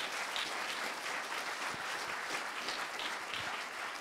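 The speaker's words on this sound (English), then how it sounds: "Can we give a round of applause to the panelists?" An audience at a 2018 diversity panel gives the panelists sustained applause. Dense, even clapping fills the whole stretch at a steady level without letting up.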